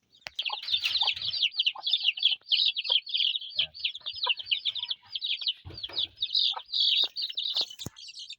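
Chicks and hens cheeping and clucking close by in a rapid, continuous run of high chirps, with a few softer lower clucks and scattered knocks underneath.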